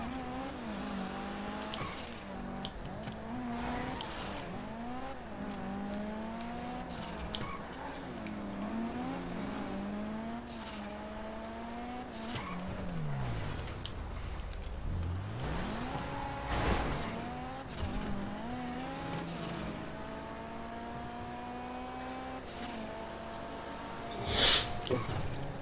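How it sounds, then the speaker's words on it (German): Car drifting in GTA V, the engine revving up and down continuously with tires squealing through repeated slides, steady and loud with a brief sharp burst near the end. "Baby lernt driften mit dem Auto."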